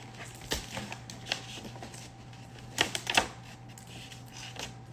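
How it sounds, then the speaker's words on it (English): Tape pulled and pressed down while wrapping a Christmas present gives a few short, crackly bursts, with two sharper rips near the end, over a quiet room hum. "we could do this, tape it down"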